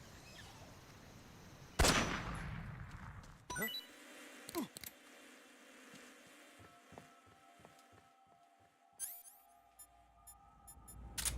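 Gunfire in Metal Gear Solid 3: one sharp, loud shot followed by a scatter of lighter pops and clicks spread over several seconds, with another burst near the end, over a quiet game ambience.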